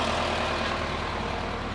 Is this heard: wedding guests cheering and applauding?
no